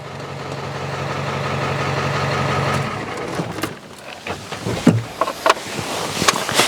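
Ford F350 with a 7.3 turbo diesel engine idling with a steady low drone for about three seconds, then it quiets and is broken by scattered clanks and knocks.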